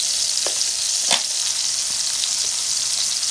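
Bread frying in a pan over medium heat for a breakfast sandwich, a steady close sizzle with a couple of brief louder crackles and no talking.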